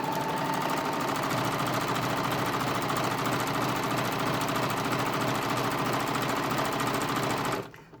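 Sewing machine stitching forwards and backwards on fleece, a continuous loud mechanical whir with a rapid steady needle rhythm that runs without a break and cuts off abruptly at the end.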